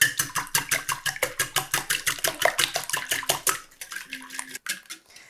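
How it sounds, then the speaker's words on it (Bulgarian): Eggs are beaten with a wire whisk in a bowl, giving a fast, even run of rhythmic clinking strokes, close and distinct, then the whisking stops and a few quieter kitchen clatters follow. "Разбивам яйцата с помощта на телена бъркалка."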